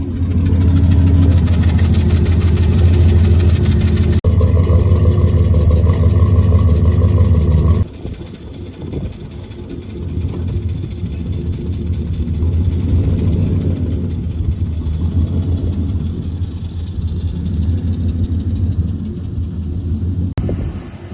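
A Chevrolet Silverado engine with a newly replaced fuel pump, fuel filter and spark plug wires runs close by with a loud, steady idle, a deep rumble that drops in level partway through and then holds.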